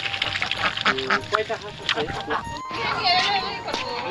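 Several ducks quack in short bursts nearby on a river island village in the Padma, while a person talks over them.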